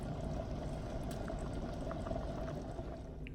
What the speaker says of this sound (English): Let it boil a little bit, and then you can actually serve it.